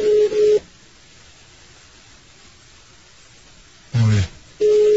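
Telephone keypad dialing, with short electronic tones at the start and end and a louder burst near the end, separated by a long stretch of quiet line hiss.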